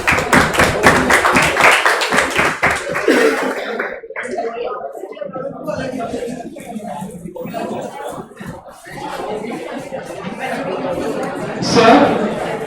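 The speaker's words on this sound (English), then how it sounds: "Let's give a huge round of applause to our esteemed speaker" A loud burst of crowd applause for a guest speaker at a college hackathon session, lasting a few seconds before it fades into chatter, laughter and scattered talk in the room.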